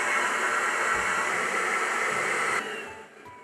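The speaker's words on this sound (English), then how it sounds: "Yo, vacuum." Steady, loud, hissing whoosh from a vacuum item sucking in a video game, holding evenly for about two and a half seconds and then fading quickly.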